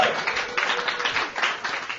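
Comedy club crowd applauding for comedian Joe List, a dense continuous wash of clapping with a few cheers, steady and fairly loud throughout.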